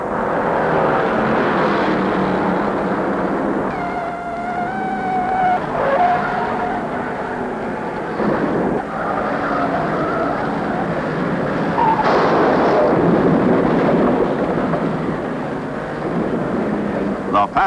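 Stock cars race at Darlington Raceway in the 1950s, engines roaring and droning past with tire skids, while a narrator talks over the racing noise throughout.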